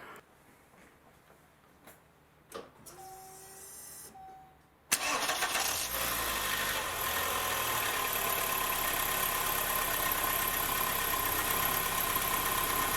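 A 1999 VW Golf Mk3 2.0 petrol engine cranks briefly after some faint clicks and a chime, then catches and settles into a steady, close idle that runs smoothly to the end.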